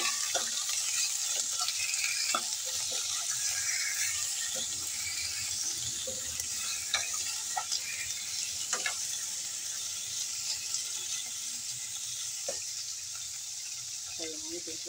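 Pork browning in a pan with black beans and potatoes for pork adobo: a steady, close sizzle runs throughout, with scattered clicks and scrapes from stirring.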